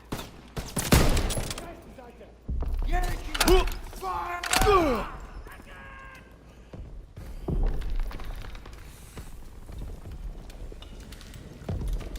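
Gunfire in a World War II video game comes as several loud, sharp bursts early on, then thins to scattered distant shots under game noise, with voices heard in between.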